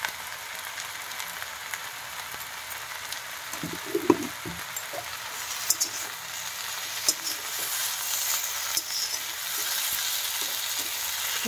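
Fenugreek leaves (methi) frying in a pan: a steady, close sizzle with occasional scraping stirs and light knocks of the spoon, and no talking.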